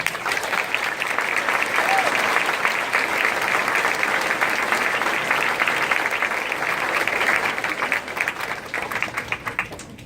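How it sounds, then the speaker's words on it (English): Audience applause at an Aviation Challenge camp graduation as trainees with call signs are named, dense continuous clapping from a sizeable crowd, close and even throughout before easing slightly at the end. "Let's give them a round of applause"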